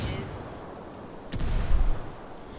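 A frag grenade explodes in the Ghost Recon Wildlands Ghost War PvP shooter, a single sudden burst midway followed by a low rumbling tail over quieter game ambience.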